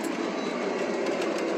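An ES44AC model train locomotive pulls a heavy train, producing a dense, continuous rolling rumble with faint rhythmic clicking from the track, steady and close.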